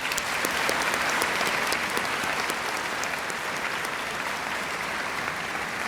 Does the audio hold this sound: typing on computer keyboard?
no